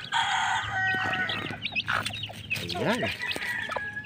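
A mother hen clucks and squawks close by while her chicks are given feed, with other chicken calls and a crow mixed in, and a voice speaks briefly over the birds.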